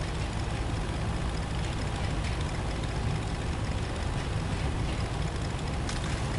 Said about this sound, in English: I do like the noise it makes, so the noise it makes is cool. Copper diesel engine.